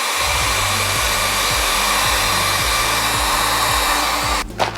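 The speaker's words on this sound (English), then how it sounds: "I'm gonna hit it with the heat gun, see if we can get it to kind of stick better." A heat gun blows steadily on Michelin lettering fitted to a scooter tire, a loud constant whooshing roar with a low pulsing motor hum, cutting off abruptly at the end.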